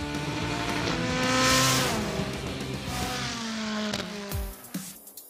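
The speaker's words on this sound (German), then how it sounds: "Unter der langgestreckten Haube arbeitet ein 2-Liter Vierzylinder von Ford mit Kompressor." Sports car with a supercharged 2-litre Ford four-cylinder revving hard, a loud raspy engine note climbing and falling through the gears, with a brief squeal near the end before it fades out, and no voices.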